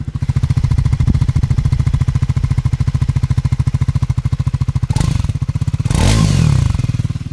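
The exhaust of a Triumph Scrambler 400 single-cylinder motorcycle thuds close up in a rapid, even idle pulse, then a short sharp rev swells and falls back toward the end.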